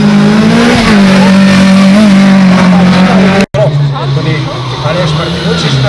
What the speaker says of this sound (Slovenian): Neuničljivi Slavc v svojem modrim Clio RS.